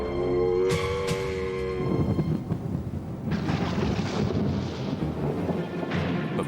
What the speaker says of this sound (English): a violent storm erupts, unleashing a torrent of water